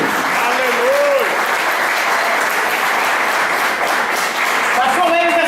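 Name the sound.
church congregation applauding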